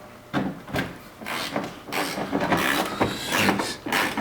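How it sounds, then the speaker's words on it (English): Ratchet working bolts loose on a crusty rear quarter panel of a Toyota 4Runner, a close series of rapid clicking and grinding bursts with metallic rattles in between. "Popping out the bolts."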